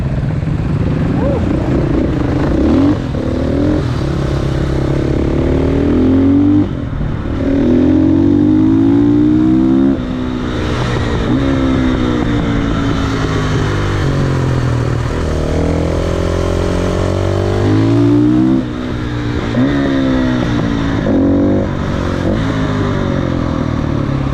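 KTM EXC enduro motorcycles riding a winding mountain road near Nice, a loud close engine drone that revs up and drops back through repeated gear shifts over about twenty-four seconds, with no talk.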